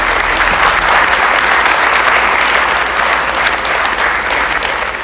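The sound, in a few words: warm round of applause at ribbon cutting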